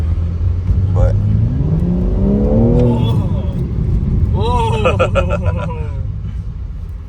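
A stock BMW car engine revs through an aftermarket exhaust, rising in a strong, close, sustained drone while people talk and exclaim over it.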